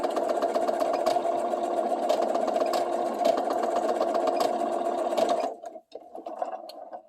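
A sewing machine stitches back and forth in zigzag over an elastic waistband for a cinched waist, a loud steady mechanical whir that runs continuously, then stops and gives way to softer, uneven handling noise near the end.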